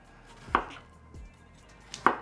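A knife cuts watermelon into thin strips on a cutting board. There are two sharp, close chops about a second and a half apart, with a softer tap between them, in an otherwise quiet kitchen.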